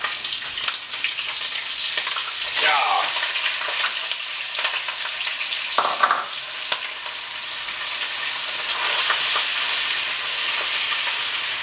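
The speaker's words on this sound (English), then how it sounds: "Let it cook on up in that bacon grease and we'll have some more flavor" Pork and beef frying in bacon grease for a cowboy stew, a loud continuous sizzle and crackle up close with occasional stirring scrapes.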